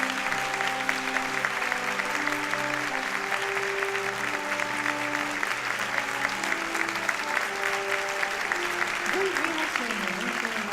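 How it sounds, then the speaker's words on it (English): A conference audience applauding as a peace award laureate is welcomed, a moderate crowd of handclaps continuing steadily at a slight distance, with a soft voice or hum faintly beneath and a short vocal sound near the end. "We have a warm round of applause for Her Royal Highness."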